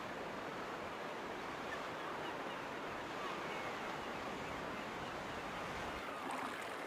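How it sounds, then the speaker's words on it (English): Ocean waves washing onto a foggy beach on Brier Island, Nova Scotia, heard as a steady, fairly faint broadband surf wash with a slight wind rush and no voices. "Fog, the smell of ocean air, muffled cries of seabirds, and waves crashing on the beach."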